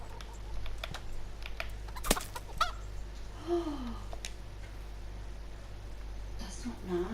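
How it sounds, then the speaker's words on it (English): A chicken in the video game Kingdom Come Deliverance clucks softly a couple of times at mid distance, faint beneath scattered keyboard clicks and a low steady background hum. "Ah, chicken."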